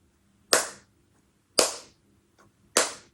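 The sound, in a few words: hand clap testing studio room reverb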